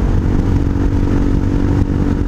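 A Hawk 250 motorcycle with an aftermarket exhaust pulls hard in a steady, loud engine drone with heavy wind buffeting, and a brief dip near the end that suggests a gear shift.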